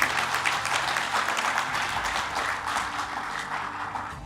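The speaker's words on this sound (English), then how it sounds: "We must clap for these investors." An audience at a plant opening in the Lusaka South Economic Zone, Zambia, claps for investors in a steady, dense round of applause that holds throughout without fading.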